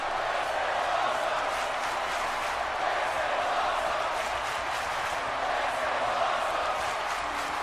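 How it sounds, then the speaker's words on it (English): Crowd cheering in the WWE 2K18 wrestling video game after a package piledriver through a table during an NXT pay-per-view match, a steady roar of arena noise throughout. "You hear the crowd. This is awesome."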